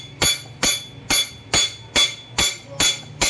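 A hammer pounds something hard in a steady rhythm, eight sharp, close, evenly spaced blows with brief ringing decays between them and no talk.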